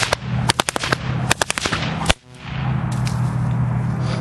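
Two whips cracked together in a machine gun figure give a rapid, loud volley of sharp snaps, unevenly spaced, which stops abruptly and leaves a steady background hiss.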